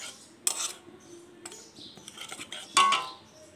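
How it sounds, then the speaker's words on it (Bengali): A spoon mixing mustard and poppy seed paste with green chilli paste in a pan, sounding as a few sharp metallic clinks and scrapes with short gaps between them, close and fairly quiet. "দিয়ে ভালো করে মিশিয়ে নেব 1টা চামচের সাহায্যে।"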